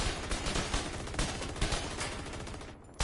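Light machine gun in a video game fires steady rapid bursts, loud and continuous, with crisp repeated cracks that briefly cut off near the end.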